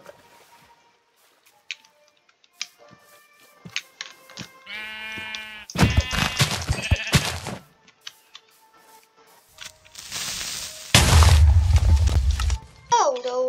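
Sheep in the Minecraft video game bleat in short wavering calls amid sparse game clicks and thuds, with a person talking briefly at points.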